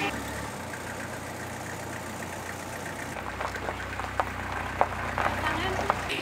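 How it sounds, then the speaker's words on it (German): A vehicle engine runs steadily after an engine replacement, a low idling rumble close by with a few sharp knocks and clicks later on, while people talk over it. "Wir verlieren kein Öl. Der Motor läuft."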